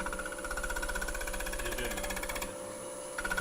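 Long grind bowl gouge cutting the rim edge of a wooden bowl spinning on a lathe, a close, steady buzzing chatter that continues evenly, dips briefly, then resumes.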